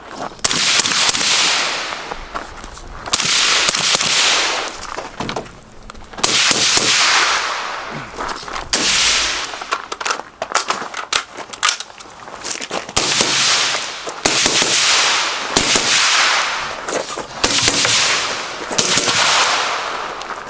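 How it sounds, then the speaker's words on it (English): Suppressed 5.56 rifle fired indoors inside a structure through a Dead Air Wolfman suppressor, a series of sharp, loud reports spaced a second or two apart, each with a quick echoing tail, no talking. "shooting in the structure, I'm really impressed with the Dead Air Wolfman"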